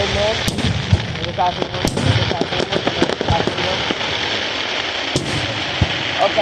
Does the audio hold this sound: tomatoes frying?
no